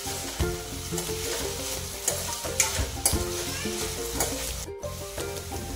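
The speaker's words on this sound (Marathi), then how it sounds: "बटाटे छान फिरवून छान दमून घ्यायचे" Grated potatoes sizzle and fry in a pan while a spoon stirs and scrapes through them in irregular strokes, steady close crackle throughout with no voices.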